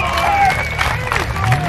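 A crowd applauds and cheers, with clapping mixed into a noisy babble of voices and shouts, loud and close throughout.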